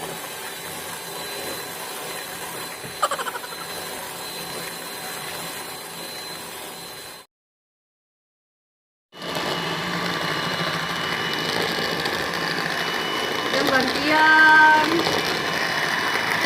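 A hand mixer whips dalgona coffee at its highest speed, giving a steady, close whirring drone that cuts out for about two seconds midway and then resumes just as loud.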